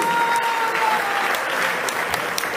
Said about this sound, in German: Applaus auch für den tapferen Verlierer Jean-Luc Kronach.